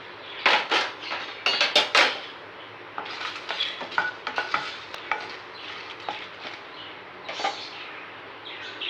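Dried red chillies roasting in a pan for temple-style puliyodharai, stirred with a metal spoon: repeated scraping clinks and rattles against the pan over a soft background sizzle, close by, with no talking.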